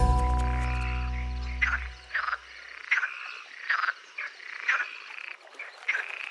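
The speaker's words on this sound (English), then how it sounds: "One of the most striking amphibians found in this ecosystem is the fire-bellied toad." A fire-bellied toad in a rainforest gives a run of short, regular croaks, about eight calls spaced roughly half a second apart, heard close and clear after a low hum fades out.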